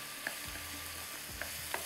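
Minced meat with onions and vegetables being stirred in a pan, with a soft low sizzle under a few scraping strokes of a spoon spaced through the moment.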